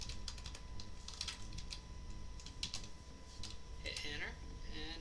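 Quick bursts of computer keyboard typing while entering a filename in an Excel sheet, crisp clustered key clicks with short pauses, faint and close, followed by a brief vocal sound near the end.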